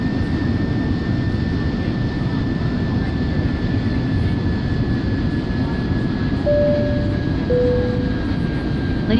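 Inside the cabin of a Delta Air Lines Boeing 767-300 during its descent into Memphis, a loud, steady engine and airflow roar fills the cabin, with faint tones sounding briefly.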